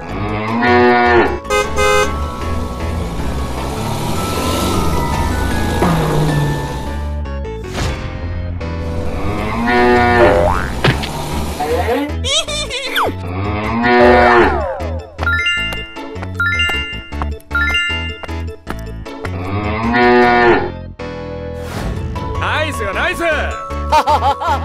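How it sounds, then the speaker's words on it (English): A cow moos several times among jingling bell tones and bright synthetic chimes in a playful children's animal-sound sequence, with voice-like sounds mixed in throughout. "Cow."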